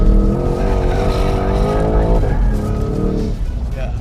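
A Porsche Cayenne GTS with all-wheel drive slides under power, its engine roaring loudly and steadily with a rising note and a hint of tire noise throughout.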